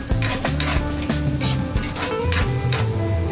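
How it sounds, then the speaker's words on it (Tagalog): Chopped onion and finely crushed ginger fry loudly in hot oil while a spoon repeatedly scrapes and stirs the pan, a busy rhythmic sizzle throughout. "Ang ating sibuyas, ilagay na rin natin ang ating sibuyas at imekos-mekos."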